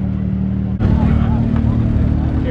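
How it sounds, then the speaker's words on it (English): A car engine at a car meet jumps from a steady idle into a loud, sustained rev, close by, with people talking over it. "Rev it up! Yeah, rev it up."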